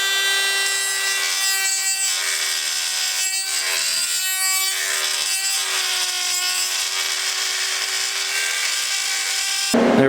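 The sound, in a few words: ovaling out a hole in a wheel part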